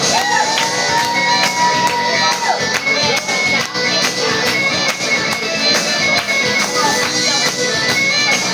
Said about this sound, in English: please, everybody scream, come on